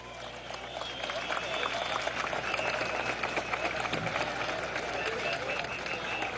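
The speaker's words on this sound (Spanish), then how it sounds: "Vamos a recibir con un gran aplauso y las manos en alto a Yanira Lovera" A crowd at a political rally at Miraflores in Venezuela applauds steadily for Yanira Lovera, daughter of Alberto Lovera, with dense clapping and crowd noise throughout.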